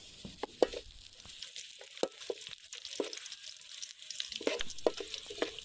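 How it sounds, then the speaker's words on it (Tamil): Cumin, fennel and other whole spices frying together in a pan for a spicy Chettinad chicken gravy, a low sizzle punctuated by sharp scraping stirs and clinks at irregular intervals, close by. "இது எல்லாத்தையும் ஒன்றா சேர்த்து நல்லா ஃப்ரை பண்ணிக்கோங்க"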